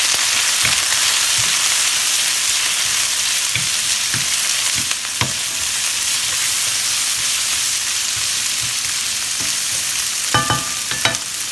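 Food for a Chipotle-style burrito bowl frying in a pan over a medium-high flame, with a steady close sizzle and hiss and a few sharp clicks and scrapes of stirring, and no voices.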